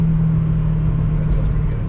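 Subaru from a used dealership accelerating, its engine intake giving a steady, loud low rumble throughout, heard from inside the cabin.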